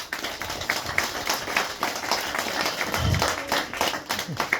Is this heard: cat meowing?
no